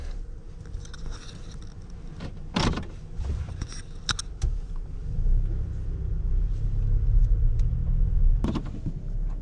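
A red 2019 Toyota Tacoma SR5 pickup heard from inside the cab while driving, a low steady engine and road rumble that swells gradually, with a few brief clicks and rattles.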